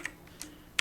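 Three quick clicks from a computer keyboard as code is typed, close and fairly soft, spaced at irregular intervals with quiet between.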